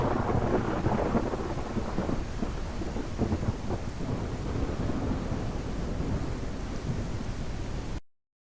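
A video game thunderstorm from Lands of Nedûn: Emberward rumbles loud and continuous, heavy rain hissing steadily under rolling thunder until it cuts off abruptly.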